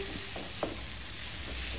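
Spice paste with chili powder stirred in a frying pan, a steady sizzle with a couple of brief spatula scrapes, close and alone.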